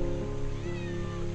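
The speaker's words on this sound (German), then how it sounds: "Hey, die Katze läuft mir noch nach." Cat meowing at close range while following someone at a flower park in Kanchanaburi, Thailand, one drawn-out, clear meow.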